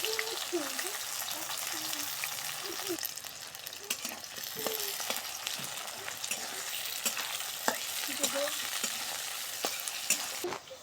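Onions sizzle and crackle in hot oil, with occasional stirring scrapes and sharp pops over a steady frying hiss.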